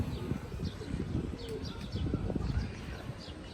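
Pigeons coo softly in a loft, low rolling calls repeating amid faint chirps, shuffling and rustling. The sounds are quiet and close.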